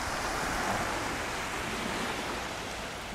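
Surf washing onto a beach at Calvi, Corsica, a steady broadband roar of breaking waves with some wind across the microphone, continuous and fairly close, no voices.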